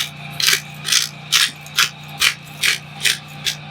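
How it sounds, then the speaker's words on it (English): A pepper mill grinds fresh pepper over venison backstrap in about eight evenly spaced, close rasping twists, with a faint steady hum between the strokes. "Fresh ground pepper."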